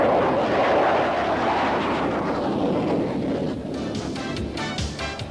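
A McDonnell Douglas F/A-18 Hornet military jet roars steadily overhead at loud, close range, its broad rumble slowly fading.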